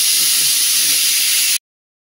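Chicken 65 frying in hot oil, a loud continuous close hiss and sizzle that cuts off abruptly partway through, no talking.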